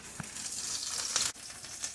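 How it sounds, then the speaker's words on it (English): Barbecue chicken sizzles and spits in a hot skillet while it is stirred, giving a close, steady frying hiss with scattered scraping clicks and one brief sharp knock near the end. No voices. "we're going to mix around our barbecue chicken in the skillet and get it flavored"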